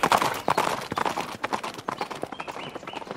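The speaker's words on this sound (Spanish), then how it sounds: "Mary Poppins hizo que los caballitos de madera se salieran del tío vivo y comenzaran a trotar como si tuvieran vida propia." Wooden carousel horses trotting, rendered as a hoof sound effect: a quick, steady clip-clop of hard hooves, close and fairly loud, with no other sounds.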